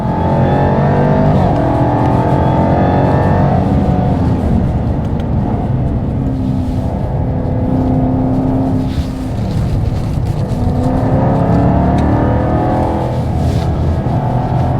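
Jaguar Project 8 engine on a race track, loud and close from inside, with sustained roaring acceleration, pitch rising through gears and dipping on shifts and braking.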